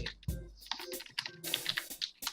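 Keys clatter on a computer keyboard in a quick, uneven burst of separate clicks, close and fairly quiet, with no talking.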